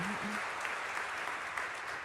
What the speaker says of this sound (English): So give them a round of applause because they bring back to Oakland